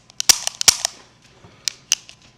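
An M9A3 pistol is dry-fired during a function check, producing a series of sharp, close metallic clicks and snaps from the trigger and hammer in an irregular cluster with a short pause between groups, loud and alone.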